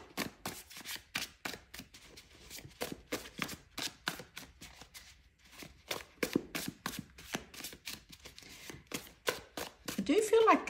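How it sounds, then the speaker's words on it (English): Tarot cards are shuffled and pulled in a steady run of crisp, rapid riffling slaps and flicks, close and fairly loud, with a short pause midway and a brief voice near the end. "Let's just pull a few of these cards."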